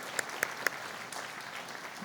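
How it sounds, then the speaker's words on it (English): Audience applause at the Milton Sports Hall of Fame induction ceremony: a few sharp nearby claps stand out at the start over a steady wash of crowd clapping that continues evenly to the end. "Let's give them another round of applause."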